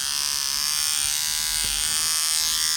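A Philips Norelco OneBlade Face + Body shaver (2018, lithium-ion) runs steadily, giving a continuous bright electric buzz held at an even, close level throughout with no talk.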